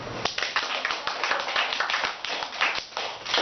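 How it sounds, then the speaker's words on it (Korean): Audience clapping at a lecture hall talk, a modest group of hands with distinct individual claps audible, steady and fairly close for a few seconds. "박수."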